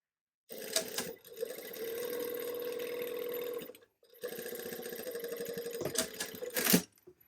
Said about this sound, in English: And we're only sewing through that fly piece.